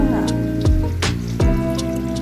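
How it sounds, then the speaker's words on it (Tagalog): Coconut milk poured into a cooking pot for a ginataang dish of banana blossom, sweet potato leaves and shrimp, heard as wet splashing and dripping pours in a few bursts, with some background voice and harmonic hum. "at ibuhos natin ang gata"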